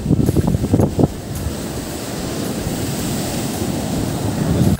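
Sea waves roll and wash steadily along Vadanappally beach, a broad, close surf rush with some wind buffeting the microphone, rising briefly at the start and end.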